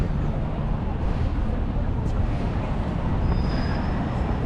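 A metro train rumbles past with a steady, loud roar and faint wheel squeal, heard continuously throughout with a thin high whine toward the end.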